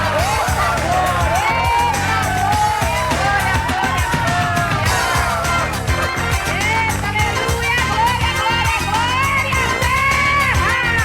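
Someone shouts and cheers loudly and continuously at the start of a Brazilian religious TV show segment, her whoops and yells filling the whole stretch with crowd-like energy.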